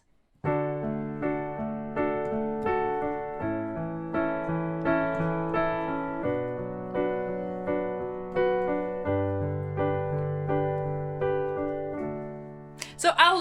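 Piano plays a flowing pattern: rolling low arpeggios under a simple repeating right-hand rhythm, steady and clear, ending with a brief noisy burst.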